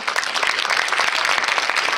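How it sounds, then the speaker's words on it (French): A television studio audience at a Christmas premiere event applauds steadily, dense continuous clapping from many hands filling the whole stretch at an even, moderately loud level. "Merci Samantha, on peut applaudir"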